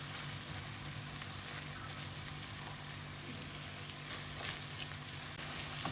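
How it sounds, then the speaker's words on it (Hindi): Minced meat keema fries on a tawa with dried fenugreek, making a steady quiet sizzle broken by occasional stirring scrapes, with no talking. "अच्छी तरह से कीमे की हमने भुनाई करनी है।"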